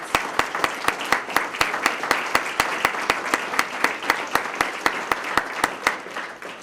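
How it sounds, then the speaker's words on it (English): A crowd at a police swearing-in ceremony in Sarasota applauds with steady, continuous clapping that holds at an even level throughout, fairly close and full. "Let's give them a round of applause."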